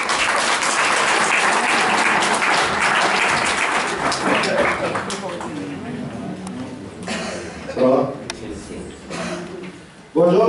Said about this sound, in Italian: Facciamo un applauso per la pazienza a Maurizio Fasano.